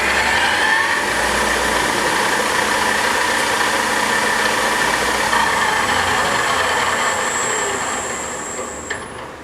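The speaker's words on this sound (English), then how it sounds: "we'll go to max spindle speed 850 in low range" A 2008 South Western Industries TRL1840SX engine lathe with ProtoTrak SL control runs its spindle at the top low-range speed of 850 rpm, giving a steady, close mechanical whine and hum that stays even and then eases off at the very end.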